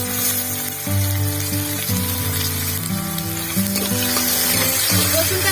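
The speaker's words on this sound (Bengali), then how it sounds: "রসুনটা ভেজে নেবো।" Garlic fries in hot oil with the slit green chillies, giving a continuous soft crackling sizzle at moderate loudness and a low steady hum underneath.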